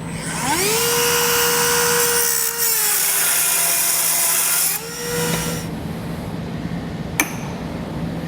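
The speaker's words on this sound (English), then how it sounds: "I prefer to use a Dremel tool." A Dremel rotary tool trims a metal bracket while a base plate kit is fitted to a 2021 Ram 1500. The motor whines up, holds a loud, steady high pitch, then winds down, with a brief sharp click near the end.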